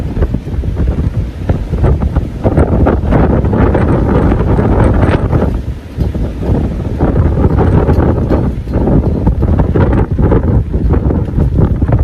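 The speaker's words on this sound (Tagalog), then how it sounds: "ang lakas ng hangin" Strong typhoon wind roars and buffets the microphone continuously at a pine forest campsite, loud and gusty throughout, with a low rumble and no voices.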